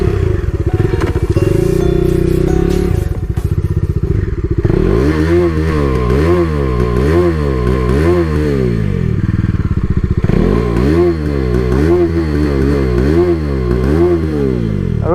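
A motorcycle engine revs repeatedly and loud and close, its pitch climbing and falling in a steady cycle of throttle blips as the RPM seems to lock and refuse to rise further.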